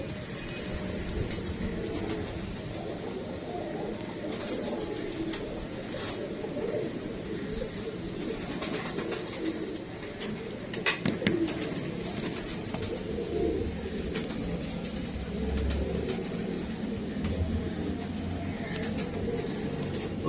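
Sumbal/sheesham pigeons, males and females, coo repeatedly in soft low throaty calls at close range over a steady outdoor background with faint distant traffic.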